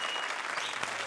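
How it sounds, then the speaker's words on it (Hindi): A comedy show studio audience applauding, a short, steady wash of many hands clapping at moderate volume, heard briefly and continuously. "तालियां बजाओ।"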